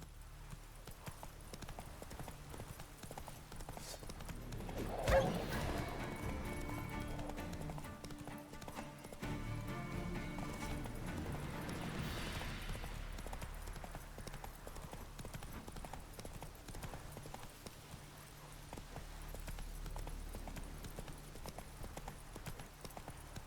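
Roach, the horse from The Witcher 3, clip-clops in a steady hoof rhythm throughout, moderately close under ambient game sounds, with one brief louder bump and a faint voice in the middle.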